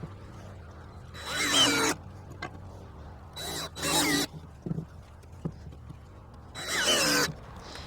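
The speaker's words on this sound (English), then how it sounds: "drive a screw through the tops and the bottoms of each of these" A power drill drives screws into a wooden picket fence door, three short whirring bursts of about half a second to a second each separated by quieter handling noise, close by with no talking.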